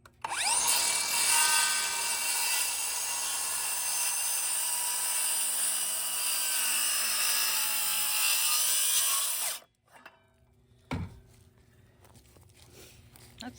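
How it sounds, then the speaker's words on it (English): A Sawzall reciprocating saw cuts through a large wooden pergola beam, a loud continuous buzzing rasp lasting about ten seconds before it stops abruptly, followed by quieter knocks and handling noise. "We'll finish that with the Sawzall."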